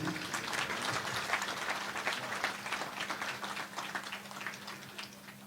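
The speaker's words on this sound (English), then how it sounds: "Ladies and gentlemen, can we have a round of applause" Steady round of audience applause at an Independence Day 2021 cultural program at a college, moderately distant clapping holding evenly throughout with a faint low hum beneath.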